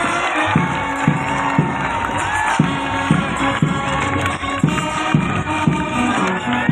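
A dense outdoor crowd at a camel festival cheers and claps for a band. The noise is loud and continuous, with a steady rhythmic thump running underneath, and a few scattered shouts rise above it.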